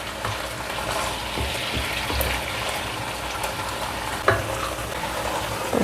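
Sea tilapia simmering in a covered pot, a steady broad bubbling and hiss running throughout with a few light knocks and clinks of utensils against the pot.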